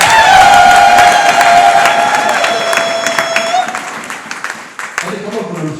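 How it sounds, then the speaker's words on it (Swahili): A church congregation claps and cheers loudly in a dense, continuous burst of applause that gradually fades over several seconds, with voices and whoops mixed through the crowd noise. "Pigie Yesu makofi."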